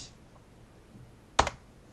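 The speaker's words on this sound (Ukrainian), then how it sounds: "Після цього натискаємо клавішу F12" A single short keyboard keypress, the F12 key on a computer keyboard, clicks once close to the microphone in an otherwise quiet room.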